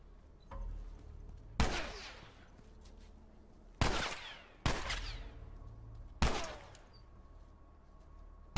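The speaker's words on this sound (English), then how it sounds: "Wow, you suck at shooting." Gunfire in the video game The Last of Us, four loud sharp shots spaced one to two seconds apart, each followed by a short echoing tail, over a quiet background.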